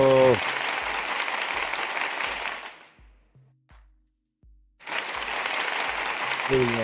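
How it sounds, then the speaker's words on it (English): A group claps through a round of applause during a live ONE Championship fight-night watch-along, with a dense burst of clapping and a low thumping beat underneath, a brief lull in the middle, then the clapping swells back up. "Let's give ourselves a round of applause for that one, boys"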